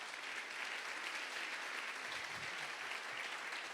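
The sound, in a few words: congregation applauding in church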